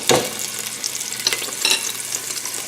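Garlic and green curry paste dropped into hot coconut oil in a pan, an immediate loud sizzle that keeps crackling steadily with a few stirring scrapes.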